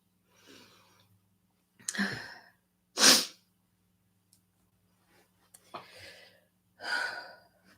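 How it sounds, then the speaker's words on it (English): A woman sneezes several times in a quiet room, sharp gasping inhales building to loud, abrupt sneezes spread across the clip with brief pauses between. "I'm about to sneeze again"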